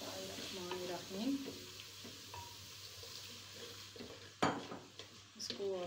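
Spice masala with tomatoes and green chillies stir-fried in a pan for mung dal, with steady sizzling, scraping spoon strokes and a sharp clatter of metal near the end; faint voices murmur in the background.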